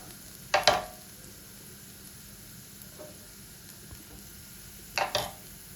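Chopped tomato fries for chicken shashlik in a pan, giving a steady soft sizzle broken by two brief scraping stirs near the start and end, with no voices.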